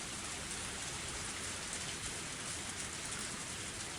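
Torrential downpour in the video game Higurashi When They Cry, a dense, even roar of heavy rain hitting surfaces, steady and unbroken from start to finish with no voices.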